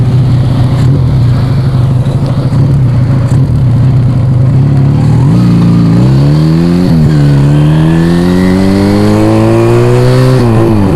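A Yamaha Vega ZR two-cylinder two-stroke motorcycle revs loudly up close, its engine pitch climbing in repeated rising sweeps after a steady idle-like drone.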